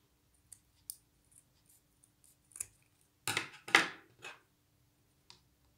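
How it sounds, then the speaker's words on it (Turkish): Scissors snip off excess ribbon or fabric while a hair clip is being made, giving a few faint, sparse clicks followed by a cluster of crisp, close cuts, with no talking. "Şuradaki fazlalığını da kesiyoruz."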